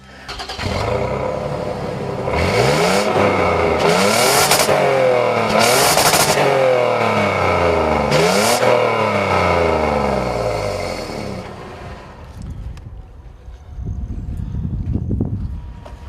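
A 2015 Toyota 4Runner TRD Pro V6 revs loudly off road, with several rising and falling engine surges close by that ease off toward the end, then a brief rougher rumble returns.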